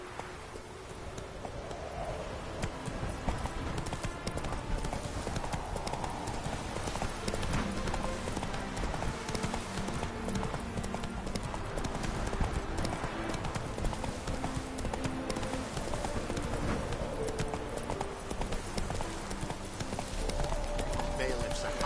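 Horse hooves gallop in a steady, rapid clip-clop rhythm throughout a Witcher 3 game scene, loud and continuous over game music and ambience, with a voice speaking briefly.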